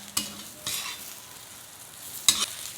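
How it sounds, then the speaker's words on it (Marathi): Drumstick pods being stirred with ground peanut powder in a pan, giving a few short scraping stir strokes over a faint background, close and fairly quiet. "तर आता आपण शेंगा शेंगामध्ये म्हणजे तो मिक्स करूया"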